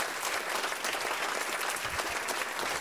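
A comedy show audience applauds continuously, a dense, even wash of clapping from many hands that holds steady throughout, heard from within the room.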